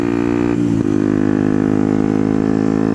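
Loud, close, steady engine note from a Yamaha WRX 125 running an Arrow exhaust with the baffle taken out, a brief dip and blip in the revs early on, then a constant buzzy drone.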